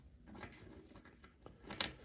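Nickels dropped into a box, a few light metallic clinks and jangles scattered over two seconds, faint and close, with the clearest chink near the end.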